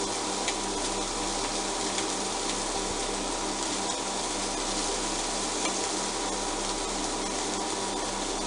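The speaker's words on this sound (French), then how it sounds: "Dans la même poêle, ajouter le vin blanc pour décoller les sucs de cuisson." White wine is poured into a frying pan to deglaze the cooking juices, giving a steady, close, continuous sizzle and hiss with faint scraping, no voices.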